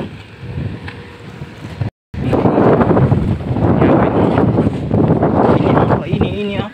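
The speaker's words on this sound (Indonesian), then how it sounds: "terus angin sudah kencang juga ya." Strong wind blows outdoors at a rubbish dump, buffeting the microphone in heavy, rumbling gusts that grow louder after a brief dropout, while a person talks over the noise.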